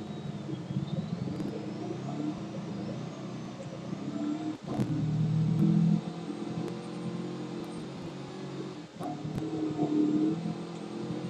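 A Ferrari-like car in Roblox drives with a steady engine drone, and the revs swell and dip a couple of times along with brief clunks.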